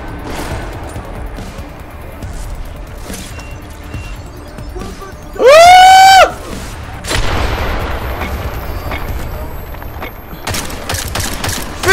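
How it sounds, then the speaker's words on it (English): Gunfire and explosions in the video game Deus Ex: Mankind Divided: repeated sharp shots and heavy booms in a loud firefight, broken by a brief tonal cry, with voices in the mix. "I need to use my gun"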